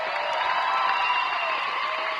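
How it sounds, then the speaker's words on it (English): An audience at a boxing match applauds and cheers after the fight, a dense, steady wash of clapping and crowd noise heard from within the arena. "how about a round of applause for that magnificent fight?"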